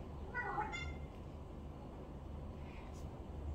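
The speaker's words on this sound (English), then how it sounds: "Cat." A house cat gives a brief meow near the start, fairly close and modest in level, followed by quiet room background.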